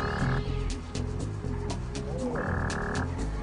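A frog croaking in the video game Sly Cooper 2, repeated croaks layered over game music and effects.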